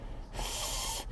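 Someone sniffs a Bean Boozled jelly bean, a single close, breathy inhalation lasting under a second.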